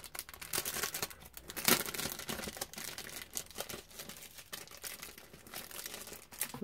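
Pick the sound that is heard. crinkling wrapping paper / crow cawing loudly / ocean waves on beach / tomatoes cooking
crinkling wrapping paper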